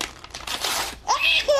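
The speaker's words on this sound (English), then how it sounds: "And Daddy ripped the paper." A short burst of paper tearing and crinkling, close by, followed by a child's high-pitched squeal.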